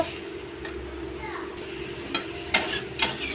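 Ridge gourd and potato pieces are fried in a pan over a low sizzle, with a few sharp clinks and scrapes of a spoon against the pan near the end, close by.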